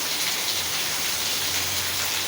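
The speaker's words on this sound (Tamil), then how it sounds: "நல்ல ஒரு மழை." Heavy rain pours steadily on a hillside outdoors, a dense, constant hiss of water falling on surfaces that stays even throughout, with no voices.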